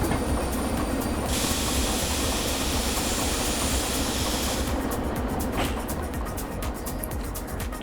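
A DE2 diesel locomotive in the railway simulation game Derail Valley hauls a heavy train up a mountain, a loud continuous rolling rumble with hissing and a quick run of rail clicks near the end.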